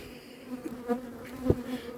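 Honeybees buzzing close by as they return to the hive after being shaken off, a continuous insect drone with a few louder passes as individuals fly near.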